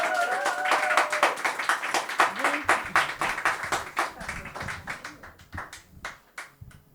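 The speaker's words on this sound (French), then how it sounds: "Alors normalement on accompagne d'applaudissements jusqu'à temps qu'elle soit..." Audience at a slam poetry tournament applauding a performer, a sparse crowd clapping in quick irregular claps that thin out toward the end, with voices mixed in.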